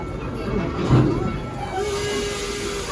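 The Serengeti Express park train pulls slowly out of Stanleyville station, a steady hissing, rumbling wash of rail noise with a faint whistle-like tone, heard up close and continuous with no clear talk.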